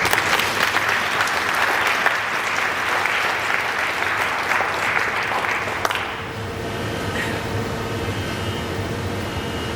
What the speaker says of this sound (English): So please give a huge round of applause for the reps